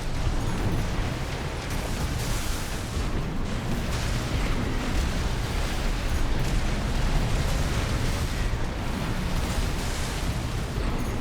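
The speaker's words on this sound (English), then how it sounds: "Oh, he got me with the plasma launcher there." Plasma launcher fire slams into a player's mech during an arena fight in Armored Core 6, a dense roaring blast of energy and explosions that stays loud and continuous throughout, with no voices.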